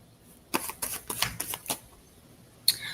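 Tarot cards being shuffled by hand, a quick burst of crisp riffling snaps and slaps over about a second, then a pause and one more sharp card snap, close and fairly quiet.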